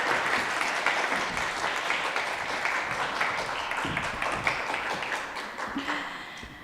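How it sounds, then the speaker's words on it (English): An audience applauds at the final of a public speaking competition, with dense, sustained clapping that carries at steady loudness through the whole stretch. "Let's give a warm applause."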